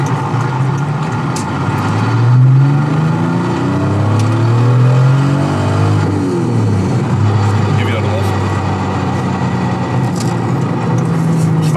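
Toyota Supra MK4 converted to a six-speed manual, its engine accelerating with rising revs through gears, loud and close, steady road roar throughout.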